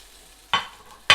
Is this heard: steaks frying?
yes